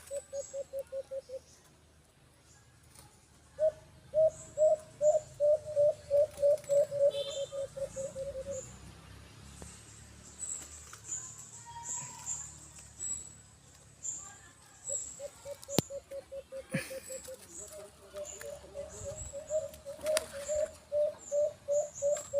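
Pigeons coo in repeated rhythmic bursts of low, soft calls, close by, with quiet pauses and faint background noise between the series.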